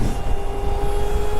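An e-bike motor running at full throttle with little power left, a steady continuous whine with a faint high tone over rumbling road and wind noise, close and constant throughout.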